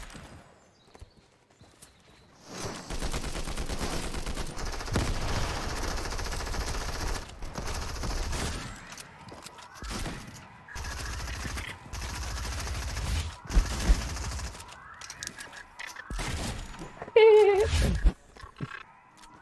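Rapid automatic fire from the Combat AR assault rifle in a video game, loud bursts repeating through most of the stretch with brief pauses, while someone talks over the shooting.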